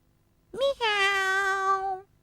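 A single cat meow, clear and close, rising then held as a tonal, drawn-out cry lasting about a second and a half, alone in silence.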